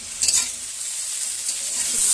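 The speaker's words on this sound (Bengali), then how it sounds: "দেখুন এবার আমার সবজিটা বেশ একটু মজে এসেছে আর একটু ভাজা ভাজা হবে" Chopped vegetables and beans fry for a spinach curry, crackling in a continuous close sizzle with a few stirring bumps early on and no talking.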